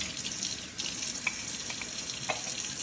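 Tap water runs steadily to rinse out an espresso machine basket, a close, continuous splashing hiss with a few brief clinks.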